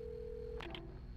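A telephone in the video game Alan Wake gives a short electronic ring, a steady tone breaking into a brief two-pulse chirp, heard alone over a low background hum.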